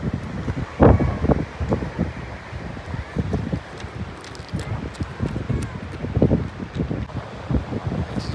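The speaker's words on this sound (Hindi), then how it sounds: "हवा बहुत तेज़ है यहाँ, बहुत हवा तेज़ है" Strong wind blows outdoors in a rocky spot beside a parked car, a continuous rough roar buffeting the microphone with sharper gusts surging in and out throughout.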